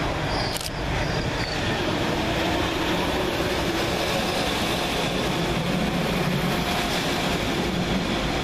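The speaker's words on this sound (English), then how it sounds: "Passing fast through the station, working to Oscar 76 from Manchester Oxford Road to Liverpool Lime Street" A Northern Rail class 195 passenger train rushes through Deansgate station in Manchester at speed, a steady loud roar of wheels and rails filling the whole stretch, with a brief sharp clank near the start.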